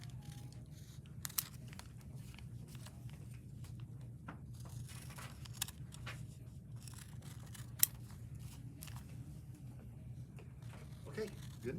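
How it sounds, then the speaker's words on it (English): Scissors trimming the edges of a paper-pieced quilt block along the line, a series of faint, quiet snips over low room hum, with a person talking in the background. "The next thing to do is trim the edges on the line"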